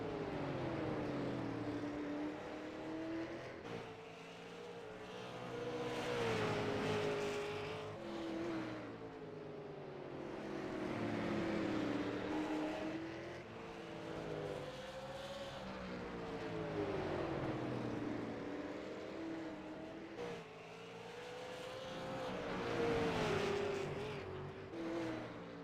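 Dirt late model race cars circling a dirt track, engines rising and falling in repeated waves of revving as the pack passes, loud and continuous with no talk.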